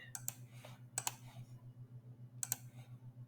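Typing on a computer keyboard: a few sharp, close key clicks in small pairs over a steady low hum, with no speech.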